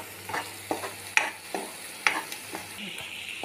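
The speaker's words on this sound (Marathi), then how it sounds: "हे आता आपले मसाले पूर्ण छान तेलात परतून झाले" Spice masala sautés in hot oil for a mutton dish. A soft sizzle sits under repeated scraping and clinking strokes of a spoon against the pan, uneven and close by, with no speech.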